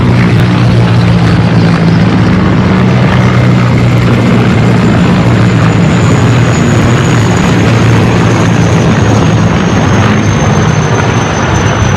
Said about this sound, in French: Les 2 hélicoptères Mi-35 se trouvent au niveau du flanc, derrière les 2 hélicoptères Mi-17